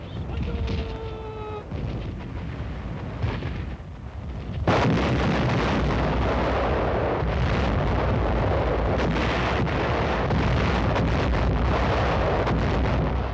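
Artillery fire in the Pacific war, a sudden heavy blast followed by a sustained roar of guns and rumbling explosions, loud and distant-sounding after a quieter stretch with brief narration at the start.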